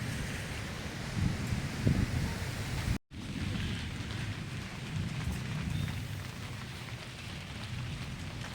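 Rain begins falling at a village home in Ratnagiri as thunder rumbles low in the distance, a soft steady patter with a brief dropout partway through and no voices.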